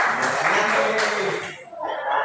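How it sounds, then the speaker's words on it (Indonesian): Classmates applaud a student named Sisi in a school classroom, a brief burst of dense clapping mixed with chuckles and voices that fades out, then picks up briefly again at the end. "Tepuk tangan dong buat Sisi"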